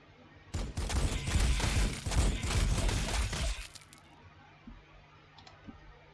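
Armor-piercing rounds fired in the Warhammer 40,000: Sanctus Reach strategy game, a loud crackling volley of impacts and shattering debris lasting about three seconds, then dropping to a quiet hum with faint scattered clicks.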